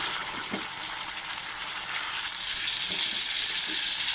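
A masala paste of ground green chilli, cumin, ginger and tomato goes into hot oil in a frying pan for a spicy fish and potato curry, giving a steady broadband sizzle that swells louder midway, with a few faint stirring knocks and no talk.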